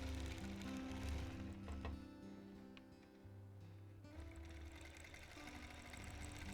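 A long arm quilting machine stitches a stipple pattern in a home quilting studio, giving a steady, continuous mechanical hum with a fine whirring texture that runs unbroken and close throughout, with no talking.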